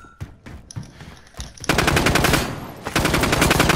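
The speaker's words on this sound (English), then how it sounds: "Musket guns." Call of Duty Modern Warfare gunfire: a few scattered single shots at first, then a loud, rapid automatic burst that rattles on for about two seconds without talk.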